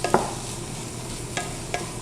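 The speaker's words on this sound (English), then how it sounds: "Kind of stir it in there a little bit, make sure that it gets cooked up with everything else" Garlic stirred into a hot pan for a Mexican chicken soup gives a soft sizzle, punctuated by a few quick scraping stirs of a utensil.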